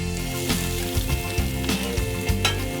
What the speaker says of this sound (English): Now we're gonna saute my mushrooms.